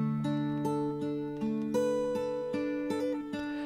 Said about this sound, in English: I've got a guitar which comes in on the left channel and it sounds like this.